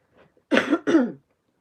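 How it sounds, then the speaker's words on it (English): A single close, sharp throat clearing in two quick rasping bursts, preceded by a faint breath, then silence. "I've got to clear my throat now."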